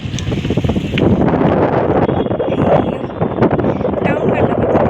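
Strong wind buffets the microphone on a rocky hilltop above a town, a continuous roaring rush with gusty thumps, while a person talks over it.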